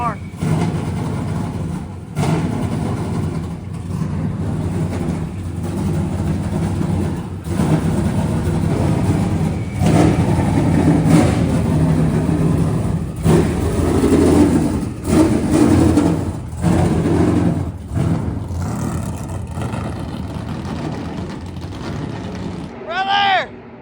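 A race car engine in a NASCAR racing video game set at Daytona hums and drones steadily through the stretch, rising and falling in bursts, with people talking over it throughout.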